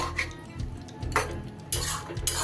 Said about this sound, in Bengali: দইটা মিশিয়ে দেওয়ার পর এবার আমি একটা চাপা দিয়ে দেব।